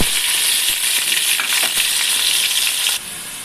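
Cumin, coriander seeds, green chilli and ginger-garlic paste frying in hot oil for a fish curry, a steady loud sizzle with faint stirring clinks, dropping slightly quieter near the end.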